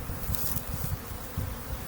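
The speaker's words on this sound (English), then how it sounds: "Now we're ready to actually install our bees." Honey bees from a three-pound package buzz in a dense, continuous drone while being installed into a hive, close and fairly loud, with light knocking thumps underneath and no talking.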